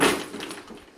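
A craft closet door swings open indoors with a brief soft scrape and whoosh, loudest at the start and fading over about a second.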